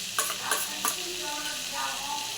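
Potatoes for doi aloo dum stir-fried in a pan, with a steady hiss of sizzling oil and a few sharp scraping strokes of a spatula near the start, close and alone.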